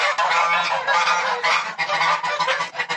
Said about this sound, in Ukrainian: Вон гусак прийшов.